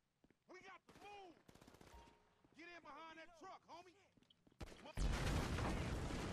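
Rapid gunfire crackles through a GTA 5 firefight, ending in a loud, noisy burst like an explosion, while someone talks and exclaims over much of it.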